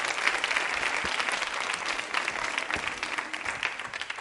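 Steady, dense applause from a quiz show audience, many hands clapping continuously at even loudness throughout.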